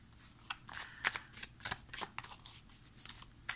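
Tarot cards are laid down and slid across a surface in quick, soft papery flicks and taps, close and faint, with no talking over them.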